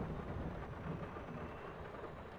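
Steady rain hiss with a low rolling rumble of thunder from a storm in Farming Simulator 22 on a Saskatchewan farm, faint and continuous with no talking.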